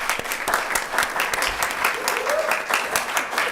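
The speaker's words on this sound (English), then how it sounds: "let's give them a round of applause." Audience at a city council work session giving a sustained round of applause, many hands clapping in a continuous, moderately loud patter for several seconds with faint voices mixed underneath.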